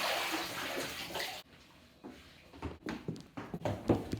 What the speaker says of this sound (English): going in the shower now